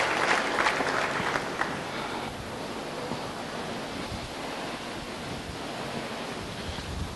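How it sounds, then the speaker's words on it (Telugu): A magic show audience applauds with a steady wash of clapping that is loudest at the start and then settles into a softer, even patter, with no talking. "మీరు చప్పట్లు కొట్టచ్చు, ఏమి అభ్యంతరం."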